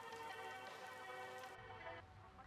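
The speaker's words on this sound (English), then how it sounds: "Getting out of the rain." Rain falls steadily in the RPG Maker game Land of Ghosts, a soft continuous patter with a faint tonal layer that thins out near the end.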